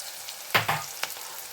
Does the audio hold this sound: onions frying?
yes